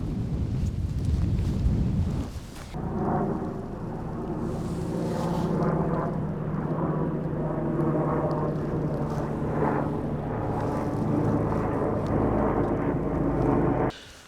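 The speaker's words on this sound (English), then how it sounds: "This helicopter is destroying my shots all the time." A loud, steady mechanical drone with a deep rumbling throb fills the whole stretch as a helicopter passes close overhead in the Swiss Alps, with wind buffeting the microphone.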